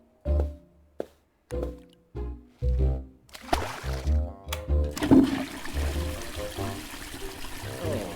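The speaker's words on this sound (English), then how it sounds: "Did we flushed the toilet already" A toilet flush in the Wardrobe video game: a loud rushing swirl of water that builds and drains over several seconds, following a few short hollow knocks, with no talking over it.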